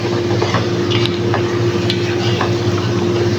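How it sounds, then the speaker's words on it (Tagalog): Meat being stirred in a frying pan for a home-cooked lunch, a steady, loud hiss of frying with a few faint scrapes and clinks of the spatula against the pan. "Ayan, haluin."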